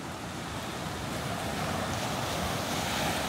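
Sea waves wash onto a beach near a fishing village, a continuous broad surf roar mixed with wind buffeting the microphone, steady and moderately loud.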